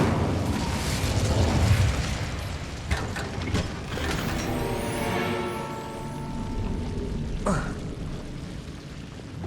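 An Incendio fire spell is cast in Hogwarts Legacy on PS5, a loud, sustained fiery whoosh and rumble layered with bursts and ringing game tones, with dense combat sound throughout and a sharp hit near the end.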